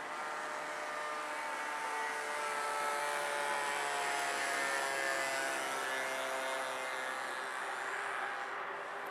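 A radio-controlled model airplane flies continuously overhead, its steady engine drone holding at a fairly constant level with slight swells as it passes, alone with no voices.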